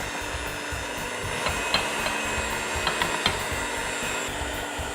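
Electric stand mixer whirring steadily while beating pumpkin roll filling with powdered sugar and vanilla, a continuous motor drone with a few faint taps and knocks on top.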